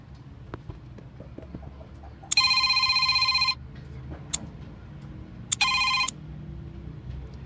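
An old-style telephone rings on a call, two bursts of loud electric bell trilling separated by a pause, over faint background rumble.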